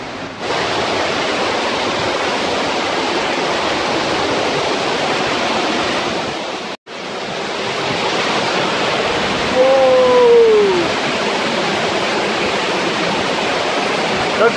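A loud, constant roar of a waterfall falling close by in Dalat, Vietnam, broad and unbroken, with a brief dropout midway and a faint tonal squeal near the end.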